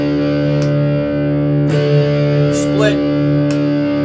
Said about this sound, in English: This is full humbucker.